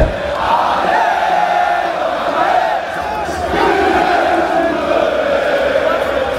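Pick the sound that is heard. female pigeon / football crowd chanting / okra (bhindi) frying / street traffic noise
football crowd chanting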